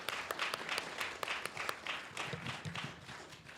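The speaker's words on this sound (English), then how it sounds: "You can applaud that." A live audience at a retro gaming convention panel in Florida claps steadily, a dense, even patter of many hands sustained throughout at moderate distance, with no talk over it.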